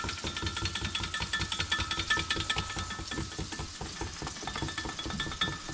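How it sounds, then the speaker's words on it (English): Gravy mix is whisked slowly into a pan for sausage gravy, giving a quick, steady rhythmic scraping and clicking of the whisk against the pan, close and fairly quiet, with no talking. "So we'll get the gravy mix going. Just whisk that in there slowly."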